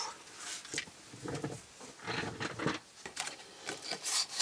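A cutout is made in the top flap of a paper wedding album, producing quiet, intermittent scraping and cutting bursts close by, with short pauses between strokes.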